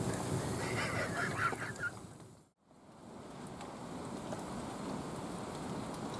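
Heavy rain pours down on a wild hammock camp, a steady dense patter with a faint goose-like call early on, broken by a brief muffled dip before the downpour resumes.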